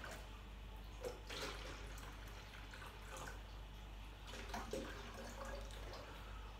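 Water is poured into small jars for HMPK betta fish, a faint, continuous splashing and trickling with a few brief louder splashes.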